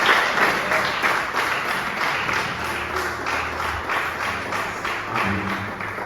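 Church congregation clapping in praise during a worship service, a dense, sustained round of applause filling the room, with faint voices and music-like tones underneath.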